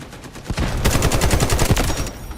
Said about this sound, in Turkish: Silah sesleri güzel.